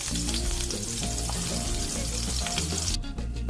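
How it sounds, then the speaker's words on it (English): King oyster mushrooms sear in a pan over high heat with a loud, continuous crackling sizzle up close. Faint clinks sound over it, and the hiss thins out abruptly near the end. "We kick our heat up to high. We're going to let that browning just happen."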